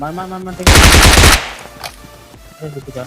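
Automatic gunfire in PUBG at Pochinki erupts in a loud, rapid burst lasting under a second, then fades into lighter in-game sounds, with faint game audio before and after.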